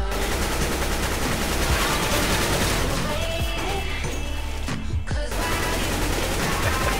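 Dense bursts of rapid gunfire from a shooter video game, including shots through a wall, crackle continuously and loudly, with a brief pause near the end and players' voices faintly underneath.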